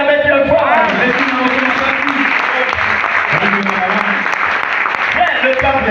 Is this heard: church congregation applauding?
yes